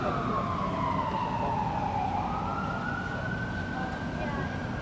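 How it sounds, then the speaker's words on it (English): Police sirens wailing as emergency vehicles pass by outdoors, the tone sweeping down and then holding steady over constant traffic and crowd noise, loud and close throughout. "we're hearing more sirens coming in."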